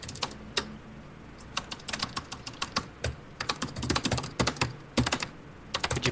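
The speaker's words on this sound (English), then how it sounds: "Did you punch that keyboard any harder?" Fast, hard clacking on a computer keyboard, with rapid irregular keystrokes close to the microphone and no talking over them.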